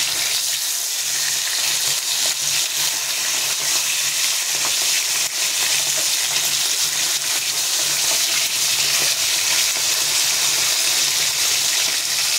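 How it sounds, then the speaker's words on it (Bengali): Fish pieces fry in hot oil in a home kitchen, giving a steady, loud sizzle and crackle that runs unbroken and close throughout, with no talking. "মাছটা ভাজা হচ্ছে"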